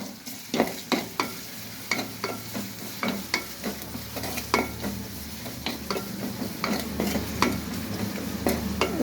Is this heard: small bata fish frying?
yes